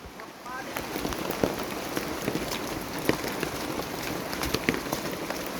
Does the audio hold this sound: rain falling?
yes